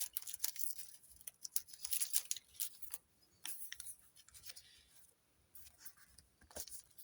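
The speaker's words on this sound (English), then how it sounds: "I'm just doing a little thinner strip now, just ripping that." A thin strip of scrap paper is torn slowly by hand, producing soft crackling rips in uneven bursts, close and quiet.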